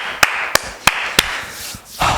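Four sharp, evenly spaced hand claps ring out close and loud at the end of an upper-body workout, followed by a brief rustle of movement.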